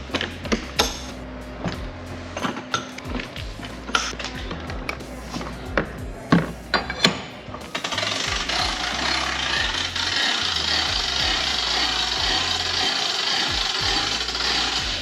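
Hand winder cranking up the roof of a Jayco Swan camper trailer: irregular close knocks and rubbing clicks at first, then a continuous grinding, ratcheting whir as the winding runs steadily; no voices.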